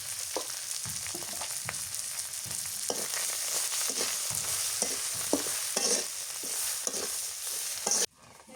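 Dried fish (shutki) sautéing with spices in a pan, a steady close sizzle with repeated scraping stirs at regular intervals, no talking, ending abruptly.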